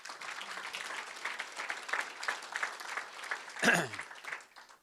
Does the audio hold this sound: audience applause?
yes